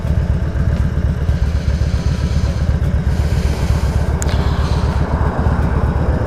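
A 2000 Harley-Davidson Road King idles at a standstill, its engine producing a steady, loping low thump with a loose rhythmic clatter, loud and close for the whole stretch.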